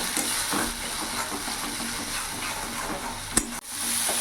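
Bengali spice paste for a duck egg curry stir-fried in a pan with a splash of water, a low steady sizzle and hiss with soft scraping, one sharp clank near the end.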